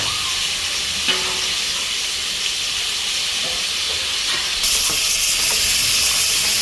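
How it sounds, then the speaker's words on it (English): Jamaican gungo peas and rice are stirred in a hot pot, with a steady hiss and sizzle of steam, faint scraping stir strokes and a brighter surge of hissing near the end. "So guys, I'm giving it a stir and then we're going to cover it and leave it to steam."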